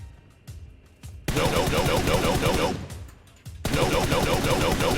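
Two long bursts of rapid automatic gunfire in the PUBG Mobile shooter game ring out loud and close, separated by a short pause filled with quieter single shots and faint game noise.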